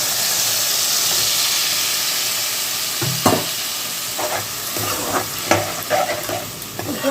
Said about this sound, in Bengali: আমি এর মধ্যে একটু সামান্য পরিমাণে জল দিয়ে দিই।